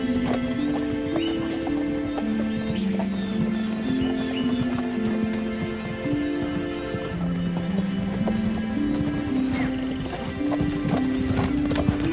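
Hooves of a horse pulling a cart clip-clop in a steady walking rhythm throughout, set under continuous melodic background music.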